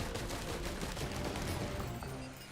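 Dense, continuous gunfire from Risk of Rain 2, rapid overlapping shots forming a loud, steady barrage that thins slightly toward the end, with no voices.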